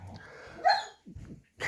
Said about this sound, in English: those dogs want to act up as soon as I'm doing a video